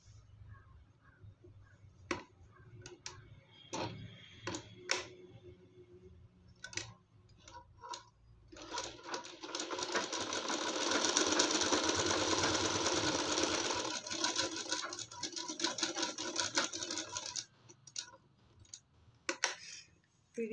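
A sewing machine stitches a neck strip onto a blouse. Scattered ticks and clicks come first, then a steady whirring run of several seconds, then more short bursts and clicks.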